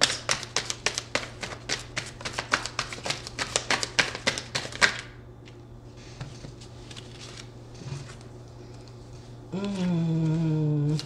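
Tarot cards being shuffled, a quick run of crisp rhythmic taps and riffles close by for several seconds, then softer rustling, with a voice starting up near the end.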